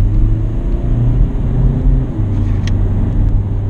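A 130 hp VW Polo 1.6 TDI with a DSG gearbox pulls hard under acceleration, its diesel drone loud and close. The engine note holds steady and then steps down as the gearbox shifts up around 4000 rpm.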